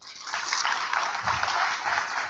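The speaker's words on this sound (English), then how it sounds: "Please give him a big round of applause." An audience at a Chinese American professors and scholars association gala applauds an assembly member, a dense, steady and somewhat muffled wash of clapping with no pauses.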